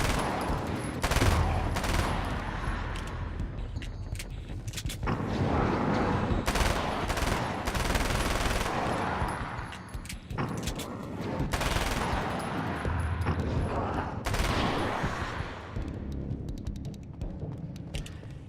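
Rapid bursts of SMG gunfire in the video game Alan Wake's American Nightmare, loud and sustained across the whole stretch with repeated volleys, layered over game ambience and some faint voice.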